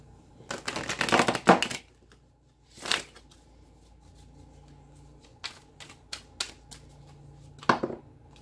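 A deck of tarot cards is shuffled in several quick riffling bursts of crisp flicking and slapping, separated by short quiet pauses, close up with no talking.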